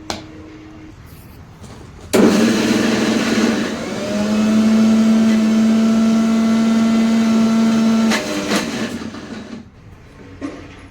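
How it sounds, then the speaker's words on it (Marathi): A mixer grinder grinding chickpea leaves and a few chickpeas starts abruptly and whirs at a loud, steady high-pitched drone for several seconds, then cuts off, leaving faint clinks. "हरभऱ्याचा पाला आणि थोडेसे हरभरे टाकलेत मी मिक्सरमध्ये, त्याला पण बारीक करायचं आहे थोडं आपल्याला"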